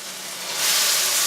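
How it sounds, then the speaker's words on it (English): Steady, close sizzling of chicken frying in a saucepan, a bright crackling hiss that swells louder halfway through, with no voices. "I'm sure you can hear that meat sizzling in the saucepan"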